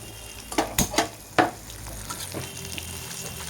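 Whole spices tempering in hot oil in a pan after fish frying, several sharp crackling pops early on over a steady sizzle that settles into a softer, even frying hiss.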